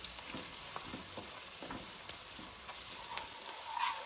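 Onions with ginger garlic paste sizzle steadily in a pan for a drumstick tomato curry, with the faint scrape of stirring over the continuous frying hiss.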